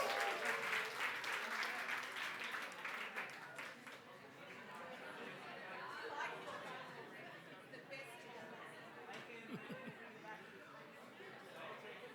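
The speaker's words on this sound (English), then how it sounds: "And now give a big round of applause to you, and let's start the talk." Audience applause at the start of a talk, brisk clapping that is strongest at first and then thins into murmuring chatter and scattered claps as the crowd settles.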